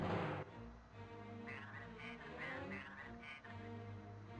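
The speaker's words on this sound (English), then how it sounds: "Hear the droid." Probe droid in the Star Wars: Shadows of the Empire game on N64, a faint electronic warbling, quacking drone repeating in short tonal pulses over a steady low hum, with no talk.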